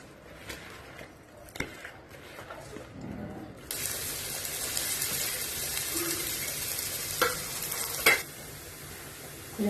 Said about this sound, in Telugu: ఇప్పుడు అంతా మిక్స్ చేసుకోవాలి